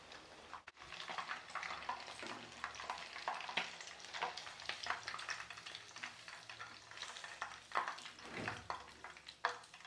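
Chicken leg pieces deep frying in hot oil for roadside-style chicken 65, a steady close crackling sizzle with bubbling bursts throughout and no talking.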